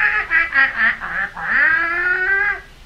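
A human voice imitates a seagull's call during a shadow puppet show, giving a loud, nasal series of squawks that ends in a long, rising, drawn-out cry, alone without other talk.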